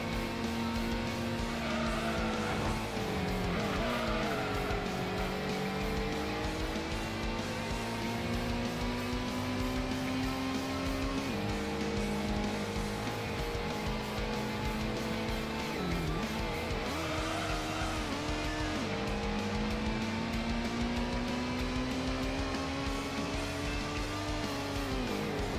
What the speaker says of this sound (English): Might be a problem because the TVR is zooming.